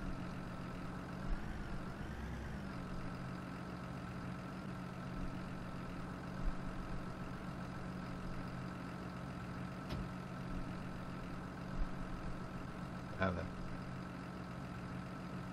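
A tractor engine idles in Farming Simulator 19, a steady low mechanical hum running throughout at moderate level, with a few brief clicks and bumps on top and no voice heard.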